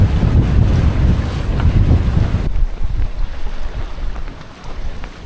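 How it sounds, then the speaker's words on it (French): Strong wind buffets a sailboat at sea near the Dodecanese islands, roaring loudly against the microphone with rushing water beneath, then easing sharply about halfway into a softer, steadier hiss. "Mais aujourd'hui, il y a un peu de vent, c'était pas prévu"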